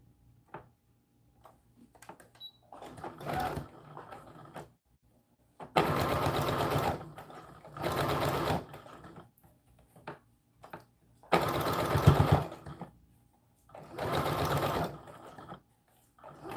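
A sewing machine stitches an American Girl doll dress in several short bursts of whirring, separated by pauses with light clicks and handling noises, close and clear.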